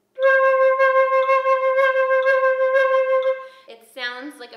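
One sustained flute note held with uneven, wobbling vibrato for several seconds, clear and close, followed by a few spoken words at the end.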